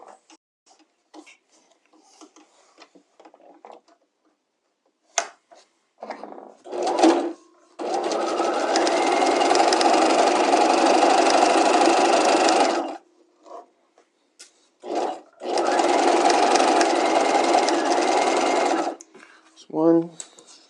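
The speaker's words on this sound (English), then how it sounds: "I'm going to stay stitch my center back at 1/4 inch" A domestic sewing machine stay stitching the center back of a structured bodice's fashion-fabric outer shell, in two long, steady, close whirring runs of about five and four seconds, with soft handling noises and brief talk in the pauses.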